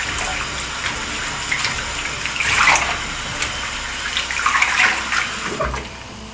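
Tap water runs steadily while Brazilian hair extensions are rinsed under it, a continuous gushing splash that swells and changes as the hair is moved through the stream.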